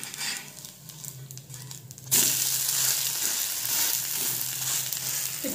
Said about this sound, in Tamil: இப்போ திருப்பி போட்டு ஒரு 1 நிமிஷம் வேகட்டும்.